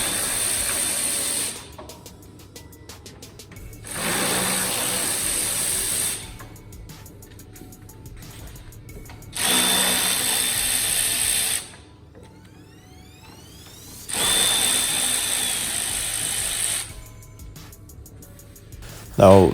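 Ratcheting tool work on grille bolts and plastic clips of a Dodge Nitro, heard as several separate bursts of rapid mechanical clicking a few seconds apart, with quieter pauses between.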